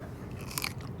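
One sharp, crisp crunch as someone bites into a Grillo's hot pickle, close and loud over steady low background noise, with no speech.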